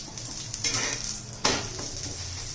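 A cabbage-stuffed paratha roasting on a griddle with ghee, giving a steady close sizzle and hiss with clinking and scraping of a metal spatula against the pan, including one louder scrape partway through.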